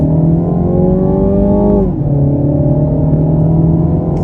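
A 2024 Mini Clubman S All4 accelerates steadily on a multi-lane highway, its engine pitch climbing, dipping briefly at a gear shift, then rising again under a constant road rumble.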